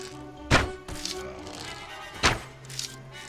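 An elven archer's bow fires arrows in a Mount & Blade Warband mod, with two sharp, close twangs about two seconds apart over a low battle background.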